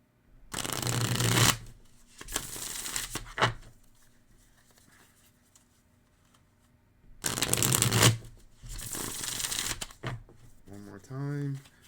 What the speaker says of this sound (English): Let's shuffle them really quickly.